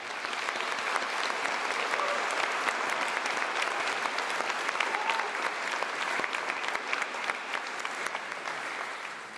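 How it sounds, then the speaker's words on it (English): An audience at a 2023 graduation ceremony gives a sustained round of applause for the school staff, a dense, even wash of clapping that lasts throughout. "So a little round of applause for our staff."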